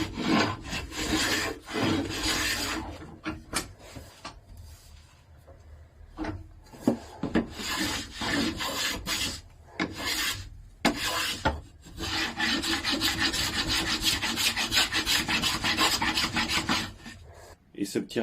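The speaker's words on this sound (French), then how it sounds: "on va faire un petit coup de rabotage de finition" Hand plane making finishing passes along a wooden board, a series of long rasping shaves with brief pauses between strokes, close and clear with no talk.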